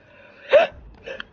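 A single short sneeze bursts out sharply, with a fainter follow-up sound a moment later, quiet and close.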